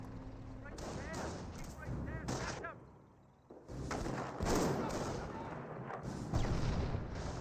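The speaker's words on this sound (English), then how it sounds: "a landmine detonation again" Company of Heroes battle noise with a landmine detonation among bursts of gunfire and explosions, dense and rumbling, with a brief lull before the din resumes; a voice talks throughout.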